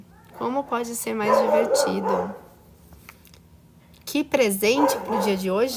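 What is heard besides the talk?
dogs barking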